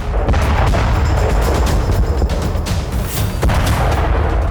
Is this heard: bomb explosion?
yes